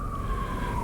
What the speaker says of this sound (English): that siren in the back annoyed me too.